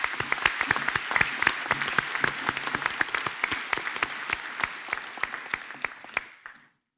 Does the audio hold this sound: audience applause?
yes